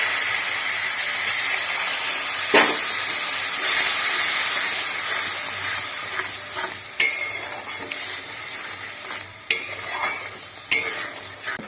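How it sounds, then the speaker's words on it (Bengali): Water poured into hot oil in a pan for an eggplant curry sets off a loud, continuous sizzle and hiss, broken by several sharp scraping stirs of a utensil, with no voices. "একটু সামান্য জল দিয়ে দেবো"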